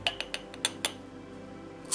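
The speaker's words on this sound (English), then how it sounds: "first thing you do is you put 5 tablespoons of chia seeds in a bowl" A metal tablespoon scoops chia seeds into a bowl, producing a series of light clinks and taps followed by a final scrape, close and clear in a quiet room.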